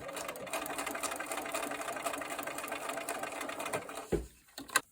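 A sewing machine stitches fabric in a fast, even run for about four seconds, then stops, followed by a few faint clicks and handling sounds.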